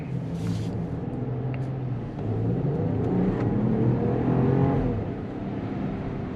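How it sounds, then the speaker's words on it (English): A 2023 Jeep Wagoneer accelerating: a steady, low engine rumble and road roar that swell smoothly as speed builds, heard continuously with no pauses. "I can never get used to such a big vehicle like this accelerating so effortlessly."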